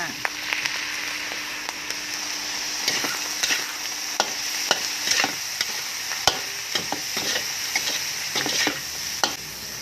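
Rice stir-fried in a pan with fish, fried garlic and seasonings, with a steady sizzle under repeated scraping and clattering of the spatula against the pan and faint talk in the background.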